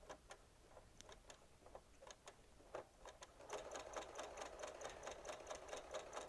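A Janome sewing machine runs at slow speed, its needle piercing fabric in sharp, evenly spaced ticks that start sparse and settle into a steady, quicker mechanical rhythm, close and alone.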